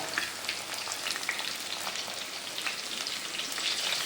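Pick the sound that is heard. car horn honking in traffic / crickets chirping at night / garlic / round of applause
garlic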